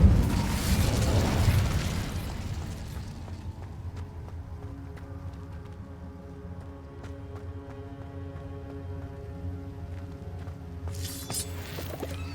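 An Incendio fire spell blast in Hogwarts Legacy, a video game, erupts in a loud, rushing whoosh at the start, then dies away under soft, sustained background music.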